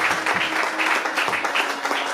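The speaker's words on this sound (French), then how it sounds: "Clap for Jesus Christ." A church congregation claps for Jesus Christ in a short burst, many hands beating in an uneven, lively patter close by.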